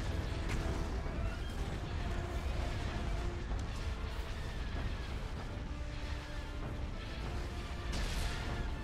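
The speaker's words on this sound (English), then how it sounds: "Ion cannon firing." Ion cannon fire in the Star Wars Empire at War: Forces of Corruption strategy game, heavy repeated booms and blasts over a constant dense battle rumble.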